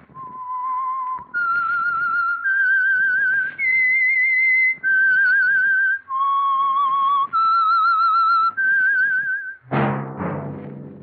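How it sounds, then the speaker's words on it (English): A clear, melodic whistled theme for the radio mystery program The Whistler, a series of sustained wavering notes stepping up and down with short gaps, loud and alone, ending in a sudden orchestral chord. "Whistle is your signal for the Signal Oil program, The Whistler."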